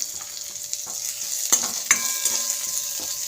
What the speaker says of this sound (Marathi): आता जे आपण वाटण तयार करून घेतलं आहे ते वाटण आता ॲड करूया आणि छान याला पण मिक्स करून घेऊया